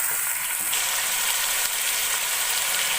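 Beef and garlic sizzling loudly in a hot pan for nihari, a dense continuous frying hiss close to the microphone, with no pauses and no talking.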